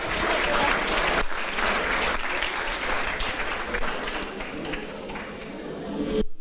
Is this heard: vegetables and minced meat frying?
no